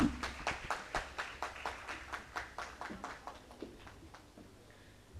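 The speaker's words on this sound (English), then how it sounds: "A warm round of applause for them." Sparse, slow clapping from a small audience at a corporate HR panel event, individual claps distinct and rhythmic, fairly quiet and thinning out after a few seconds.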